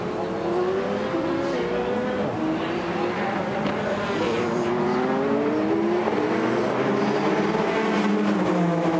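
A racing car engine hums steadily nearby as the car returns to the pit lane and garage during the 2016 FIA WEC 6 Hours of COTA, with shifting tonal whine and rising, falling pitch, continuous throughout with background crowd noise.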